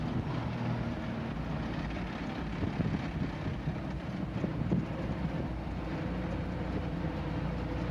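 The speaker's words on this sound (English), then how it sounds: "it's nice when that cool wind hits you" Cool wind blows steadily across the open air, buffeting the microphone with a continuous, fairly even broadband rush and low rumble that persists throughout, with no voices.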